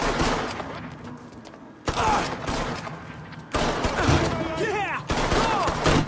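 Gunfire crackles in the Mafia III video game, with rapid bursts of shots and loud, dense volleys in several clusters, mixed with in-game shouting and other game sounds.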